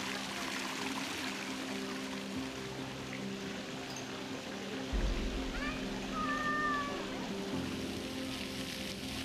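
Water runs steadily from a public granite-headed fountain in the Allgäu, a continuous splashing stream with broadband hiss and a low outdoor rumble, with a faint whistle-like tone and brief background sounds in the middle.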